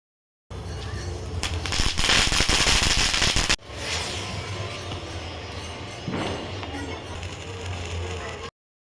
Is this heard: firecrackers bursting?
yes